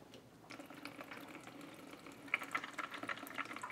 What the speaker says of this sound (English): So all that's left to do is turn my feed water supply on to my RO unit and plug the pump in.